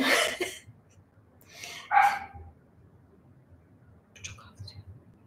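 A small dog barks at home, a few sharp yaps near the start, another near two seconds, and faint yips later, with a voice talking quietly in between.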